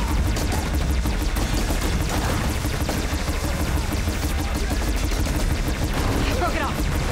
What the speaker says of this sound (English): The Ravager Cannon. Might be a good time to use it.